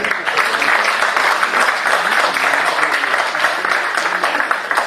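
A school audience at a poetry recital gives a dense, steady round of applause after a poet's reading, loud and sustained throughout with no break.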